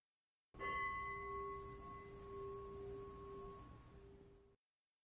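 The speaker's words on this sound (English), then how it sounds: "we'll be here to hit the bell, to end the meditation" A single meditation bell is struck once to end a sitting, ringing clear and fairly faint with a sustained tone that slowly fades over about four seconds, alone in silence.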